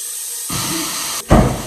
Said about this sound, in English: Still waiting for the pan to heat up. I'm gonna put the steak in.